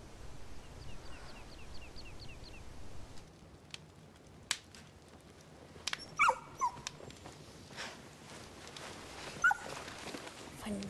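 Dog whimpering with faint, brief high whines scattered through a quiet indoor scene, plus a few sharp clicks and taps; soft and intermittent, with no speech.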